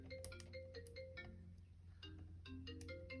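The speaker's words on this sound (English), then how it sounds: "My phone isn't ringing, but my tablet is, which is to the side of me." A tablet rings with an incoming call off to one side in a quiet craft room, a moderately faint electronic ringtone of repeating tonal chimes with short percussive accents and a brief pause midway.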